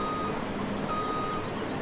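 A truck reversing in Farming Simulator 17 gives a steady series of high electronic warning beeps over low engine rumble, fairly quiet with no talk.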